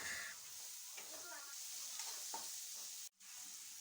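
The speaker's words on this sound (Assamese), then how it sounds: "পিঁয়াজ নহৰু দি পেলাই ভাজি লৈছোঁ" Onion and garlic fry in a pan for a traditional dish, giving a steady close sizzle and hiss with occasional stirring scrapes. The sound breaks off briefly near the end.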